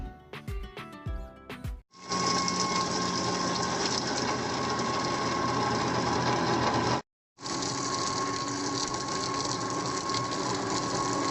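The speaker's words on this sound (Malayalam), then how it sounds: "അരമുറി തേങ്ങയിൽ കുറച്ച് പൊട്ടുകടലയും 2 പച്ചമുളക് ഇഞ്ചി ഉപ്പിട്ടിട്ട് അരക്കാം." A kitchen mixer grinds coconut chutney made with roasted gram, two green chillies, ginger and salt: a loud, steady whir in one long run, a brief pause, then a second run.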